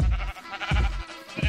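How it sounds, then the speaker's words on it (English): Sheep in the Minecraft video game bleat three times in quick succession. The bleats are short, nasal and fairly loud, with brief gaps between them and nothing else heard. "Let's hit some sheep."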